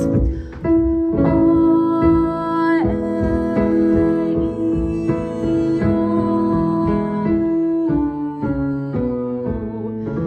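A single voice sings a sustained vowel warm-up for breath support, stepping through a run of held notes in steady succession, with no accompaniment.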